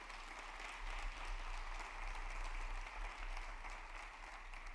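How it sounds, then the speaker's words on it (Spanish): A church congregation claps steadily for the Lord during a sermon, a soft, even wash of applause with a constant low hum beneath it. "¿Cuántos aplauden al Señor?"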